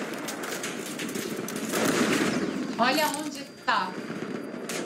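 Video game gunfire rings out as a few sharp shots and short bursts, moderately loud. Someone talks over them in the foreground.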